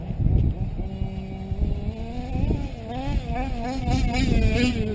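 A modified motorcycle engine revs hard at full throttle, its pitch climbing and wavering loudly and close by as it accelerates out of a dip.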